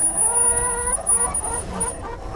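Chickens clucking inside a mobile coop fitted with drop-down roosting bars, a steady close chorus of overlapping clucks and low calls throughout, with no talking.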